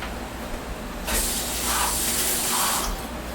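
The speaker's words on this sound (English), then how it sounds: "Just put a little water in there." Water poured into the burper airlock of a homemade pineapple wine fermenter, a close, hissing trickle lasting about two seconds, with no talk.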